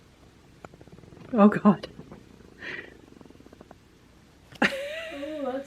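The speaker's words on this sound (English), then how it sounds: "And the purrs begin." A kitten purrs close by in a bathroom under renovation, a soft steady rumble running beneath a woman's frequent chatter, with a small cat's chirp or meow near the end.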